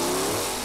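Race cars rev loudly and steadily at Bandimere Speedway during a Pinks All Out drag racing event, a dense, continuous engine roar that fills the whole moment.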